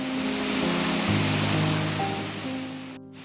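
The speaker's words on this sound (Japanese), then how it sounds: "現れる巨大な滝。" A giant waterfall plunging into a hot spring basin at Kawarage Jigoku in the Akita mountains makes a constant, broad rushing roar, with sustained musical tones laid over it before the sound drops away near the end.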